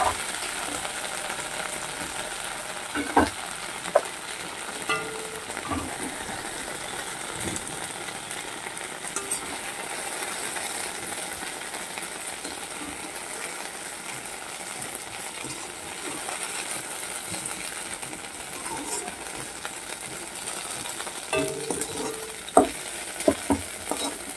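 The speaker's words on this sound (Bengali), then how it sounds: "ঢেঁড়স খুব বেশি ভাজার দরকার নেই, এই অল্প যা ভাজা গেছে ওটা আমি তুলে নেব" Okra fries in oil in a pan with a constant soft sizzle, broken by occasional sharp clinks and scrapes of stirring, close and steady throughout with no voices.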